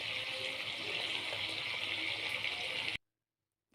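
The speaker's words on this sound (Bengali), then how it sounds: "আমি জল দিয়ে দিলাম" Water streams steadily into a pan of cooking chicken for about three seconds, a close, even rushing pour that cuts off abruptly into silence.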